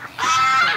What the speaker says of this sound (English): The goose is right with the ducks.